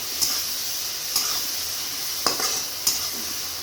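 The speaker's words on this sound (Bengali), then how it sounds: "এবার ভালোভাবে কিন্তু নেড়ে নেবো আর ভেজে নেবো" Chili powder and cumin powder fry in a pan, making a continuous close sizzle. Four sharp metallic clinks of a spoon against the pan mark the stirring at uneven intervals.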